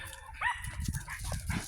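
A dog named Panda gives a couple of quick, faint barks or yips at moderate distance during a walk, with low rustling and scuffling around them.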